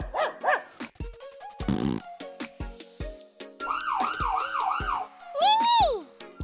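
A voice in a children's song imitates a wailing ambulance siren with rising and falling tones, mixed with other short sound effects and a dog-like bark early on.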